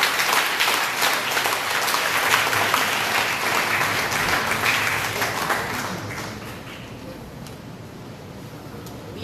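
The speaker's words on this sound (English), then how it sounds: "let's again clap for our two speakers." An audience at a church talk claps for two speakers, sustained dense applause that stays loud for about six seconds before thinning and tapering off toward the end.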